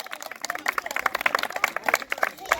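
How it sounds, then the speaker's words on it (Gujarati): Small group of people at a local village game clapping for the winner, quick uneven hand claps close by with voices chattering underneath. "તાળી પડો"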